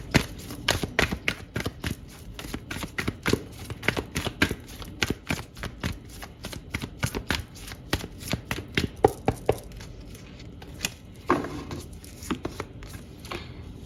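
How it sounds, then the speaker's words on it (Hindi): Tarot cards being shuffled close up: a long run of quick, crisp riffling flicks and slaps in uneven bursts, briefly easing near the end before resuming, with no talking. "सो कुछ कार्ड्स और निकालती हूँ"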